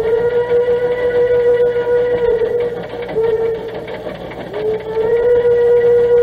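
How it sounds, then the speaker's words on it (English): A steam locomotive whistle blows in long, loud, sustained tones, dipping briefly twice before sounding again, over the steady rumble of the moving train. "I love that whistle."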